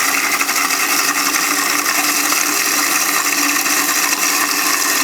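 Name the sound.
blender on slowest speed mixing caesar dressing with olive oil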